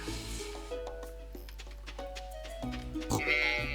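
Sheep bleat in the farming video game Stardew Valley, a few short wavering cries over soft background game music and sound effects, fairly quiet and close.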